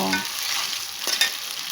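Spice paste frying in a pan for chicken khichuri, a close steady sizzle with scraping stirs running throughout.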